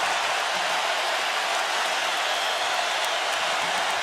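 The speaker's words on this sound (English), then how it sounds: "Tide crowd in this end making some noise." Alabama fans roar in a packed college football stadium at the national championship against Clemson, a dense, steady wall of crowd noise that holds at full loudness throughout with no clear talk on top.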